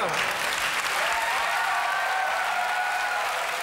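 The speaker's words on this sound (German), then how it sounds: "Du hörst, das Publikum ist total begeistert." A television studio audience breaks into loud, sustained applause during a comedy show, thick even clapping that fills the room, with faint voices beneath it.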